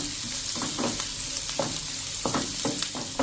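Onions and green chillies frying in a pan over a medium gas flame, a continuous dense sizzle with soft intermittent stirring scrapes, close and without speech.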